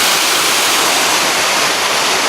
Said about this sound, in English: Beautiful little waterfall called Becky